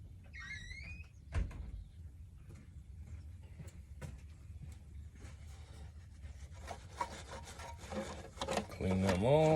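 Corrosion being scrubbed off car battery terminals after a spray of battery cleaner: close, intermittent rasping and rubbing strokes with scattered knocks, growing busier and louder toward the end.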